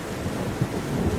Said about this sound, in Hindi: इधर तेज तूफान और बारिश की वजह से लाडो का आधा घोंसला टूट जाता है